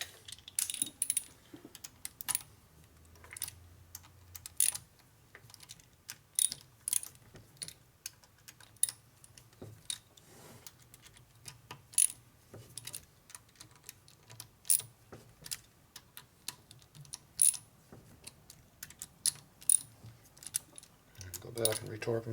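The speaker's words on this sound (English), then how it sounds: "Go back and retorque them again. Give them full torque this time." Sharp metallic clicks and ratcheting ticks from a torque wrench tightening bolts on a 1972 Harley FLH 98ci shovelhead stroker motor, scattered irregular taps close up in a quiet shop, with occasional brief speech.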